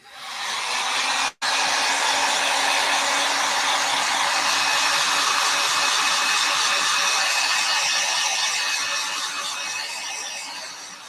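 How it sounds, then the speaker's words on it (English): A heat gun blows hard on a photo block in a crafting session, a loud, close, continuous rushing whoosh with one brief cutoff early on, then running steadily before easing slightly at the end. "I'm just going to hit it with my heat gun for a second"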